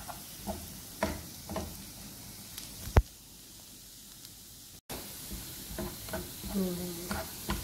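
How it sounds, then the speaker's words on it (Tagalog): Chopped garlic frying in butter in a pan, heard as a soft steady sizzle with scraping stir strokes and light utensil taps against the pan, at close range, with a brief dropout midway. "Halo-halo lang natin para hindi masunog yung bawang."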